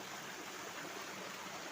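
Sitakunda waterfall near Baripada in Mayurbhanj, Odisha, makes a steady, even rush of falling water, faint and distant with no other sounds.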